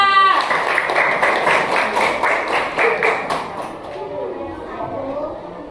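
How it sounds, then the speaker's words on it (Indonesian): A classroom of pupils claps for a presenting group, a dense burst of many hands slapping in rapid rhythm that fades after about four seconds, followed by quieter voices speaking. "silakan duduk dan berikan aplaus untuk kelompok 2"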